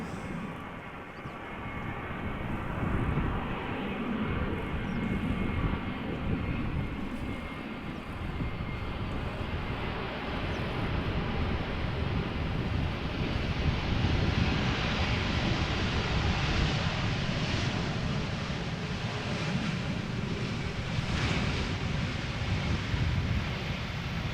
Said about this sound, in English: And here's the first airplane to arrive on the runway. We are standing next to the Polderbaan. This would be a Vueling A320 arriving from